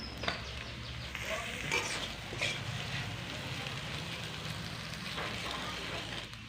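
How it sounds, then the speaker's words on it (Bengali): Fried onion and boiled potatoes cooking in a pan for aloo patties: a soft, continuous sizzle with faint stirring and scraping, moderately close, with a low background hum. "পেঁয়াজটা ভেজে নিয়েছি, এবার এর মধ্যে দিয়ে দিলাম সিদ্ধ করে রাখা আলু।"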